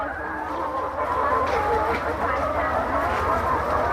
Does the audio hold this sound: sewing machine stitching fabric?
no